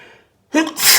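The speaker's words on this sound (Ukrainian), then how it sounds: "Та скільки можу чхати?" A single sharp sneeze after a faint breathy intake, close and loud, no talking.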